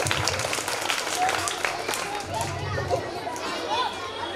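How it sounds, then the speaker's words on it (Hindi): Applause from a school audience at an annual function in a school, with children's voices and crowd chatter mixed into the steady clapping throughout. "भैया एकलव्य के लिए जोरदार तालियां बजाइए।"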